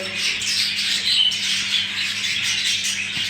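Young budgerigar chicks squawking continuously at close range, a dense, high-pitched chorus of raspy begging calls with no talking.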